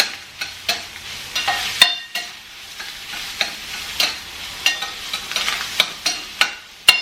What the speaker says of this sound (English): I'm going to just cook this up with the onion a little bit.